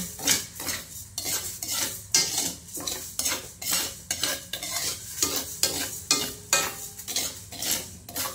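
Raw rice being dry-roasted in a pan until golden brown for homemade rice coffee, the grains stirred in a steady rhythm of dry scraping, rattling strokes close by, with no one talking.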